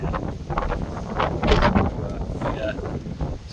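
Strong storm wind buffeting the microphone outdoors, a steady broadband roar with gusts swelling around the middle, near and fairly loud, with faint voices underneath.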